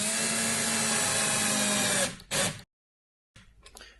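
A power screwdriver drives silver screws into the wooden panels of a Sela CaSela quick assembly kit, whirring loudly for about two seconds, then giving a short final burst before it stops.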